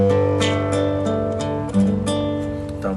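Acoustic guitar recording played back through computer speakers, slightly distorted, with repeated plucked notes and sustained chords ringing steadily at moderate loudness, no voice over it.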